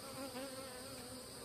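Honeybees buzz steadily at a weak, failing hive with no queen, a close, continuous drone of many wings with a faint hum beneath and no voices.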